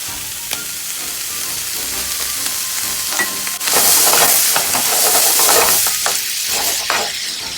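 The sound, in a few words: pasta frying in a pan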